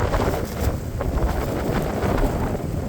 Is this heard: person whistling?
no